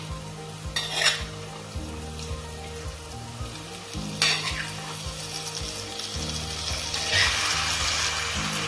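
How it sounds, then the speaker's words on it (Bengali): Marinated Bombay duck fish stirred through frying masala in a pan: a constant sizzle under a low hum, with three louder scraping stirs at intervals, and no talk. "মাছটা মশলার মধ্যে নাড়াচাড়া করে নেব।"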